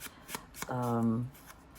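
Quick papery rustling and shuffling from hands rummaging through a box of old paper scraps and book pages, a few brief soft bursts close by, with a short tonal hum midway.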